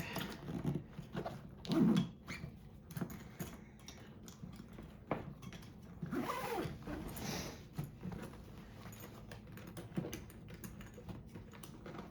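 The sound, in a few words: zipping up a dance bag zipper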